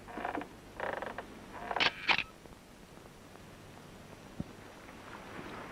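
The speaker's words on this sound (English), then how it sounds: "The more you rock, the more noise the chair makes." A wooden rocking chair creaks in a 1950s sitcom scene, giving a few short squeaky creaks in the first two seconds as it rocks, then falling quiet.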